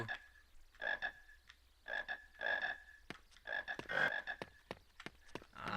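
Repeated clusters of frog croaks in the PC game Harry Potter and the Sorcerer's Stone, several bursts of close, bright croaks at an irregular pace, with sharp clicks scattered between them.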